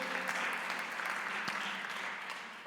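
Church congregation applauds together during a sermon, a dense, steady wash of clapping held at even loudness for a few seconds before slowly tapering.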